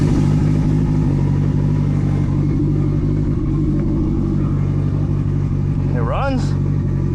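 A Mitsubishi Evo 9 with a newly fitted turbo system runs at a fast idle near 1500 rpm, a loud steady rumble close by, with a person talking over it.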